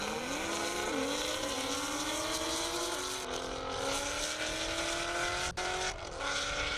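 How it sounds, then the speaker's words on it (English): A 840-horsepower Nissan GTR running E85 launches down an airport half-mile drag strip, its engine droning loud and steady as it climbs through rising gear pulls with brief dips at each shift. "Mo in the GTR, 840 horse in that. That's what you see right there on the launch pad"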